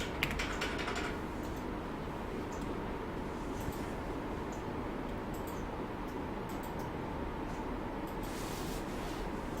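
Computer keyboard typing while entering a conditional formatting rule in an Excel spreadsheet, soft steady key clicks running throughout at a low level over a constant background hiss, with no voices.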